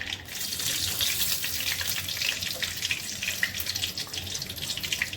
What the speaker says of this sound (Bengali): দুটো শুকনো লঙ্কা ফোড়ন করছি